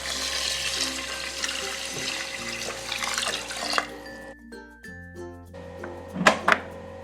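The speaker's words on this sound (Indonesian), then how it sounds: "Kemudian masukkan beras yang sudah dicuci ke dalam magicom. Masukkan airnya." Water pours into a rice cooker pot holding washed rice, a running, splashing trickle with a hum in the background, followed by a couple of clunks and gurgles near the end, with no talking.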